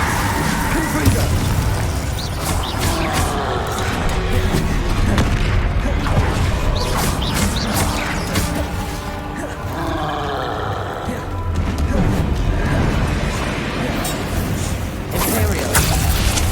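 Repeated Confringo blasts in Hogwarts Legacy battle, booming impacts layered over roaring creatures and a constant loud fight din, with voices heard in the mix.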